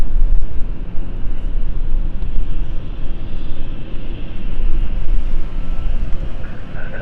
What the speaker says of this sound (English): So that sounds like our Chambery flight's finally going off after a very late flight.